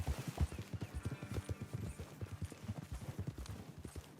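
Horses gallop in the Red Dead Redemption video game, their hooves clip-clopping in a steady, fast rhythm of loud, close thuds over a faint background.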